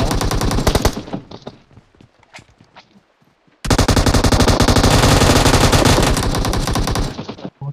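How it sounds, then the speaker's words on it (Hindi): M4 rifle fire in a video game: a long, loud sustained automatic burst at the start, scattered single shots during a quieter gap, then another extended continuous burst that runs to the end. "ये M4 बड़ी है, M4 चल गया"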